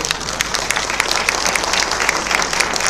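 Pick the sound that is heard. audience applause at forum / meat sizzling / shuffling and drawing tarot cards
audience applause at forum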